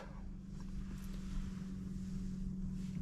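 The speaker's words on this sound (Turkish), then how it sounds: "şöyle kontağımızı da çevirelim" A Porsche 992 Cabriolet with a valved exhaust idling after ignition, a steady low rumbling drone held close and loud throughout, with no talk over it.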